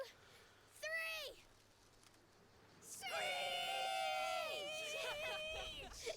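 Several people screech loudly in imitation of birds of prey, rising and falling shrill cries in short bursts, one brief call followed by a longer chorus of overlapping voices in a small group.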